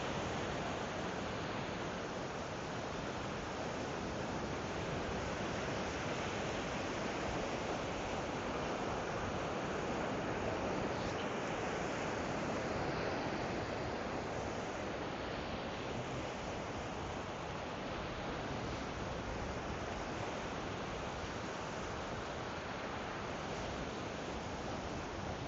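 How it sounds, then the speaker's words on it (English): Steady ocean surf rolling onto a beach at Rockaway in New York City, a continuous broad roar with no distinct breaks, close and fairly loud, with no voices. "I'm glad that the ocean sound is coming through"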